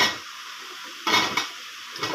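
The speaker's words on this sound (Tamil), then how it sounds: "இப்போ வந்து முருங்கைக்காயும் சுரக்காயும் போட்டுக்கிறேன்" Drumstick and bottle gourd pieces tumble into a pot of masala with coriander and chilli powder, giving two bursts of sizzling clatter over a steady background hiss, without any talk.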